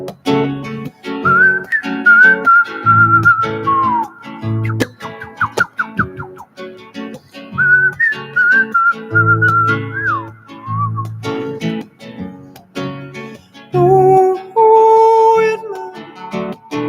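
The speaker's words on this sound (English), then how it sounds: "Let me hear you whistle." Loud, close whistling carries a melodic tune, with sustained notes and quick slides broken by short pauses, over low accompanying tones at a concert.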